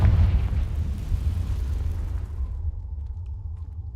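Confringo fire spell blast in the Hogwarts Legacy video game: a heavy, loud booming explosion with deep rumbling that decays over a few seconds into a fading tail, no talk over it.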